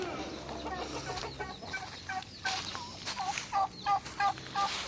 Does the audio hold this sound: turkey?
yes